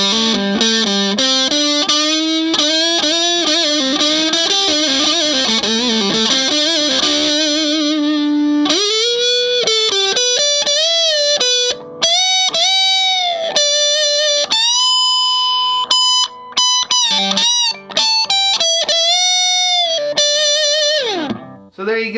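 Heavily distorted electric guitar, played on the neck pickup through a Minarik Furii heavy-metal-style distortion pedal, plays sustained notes and fast runs with a warm, thick tone, loud and close, with no talking.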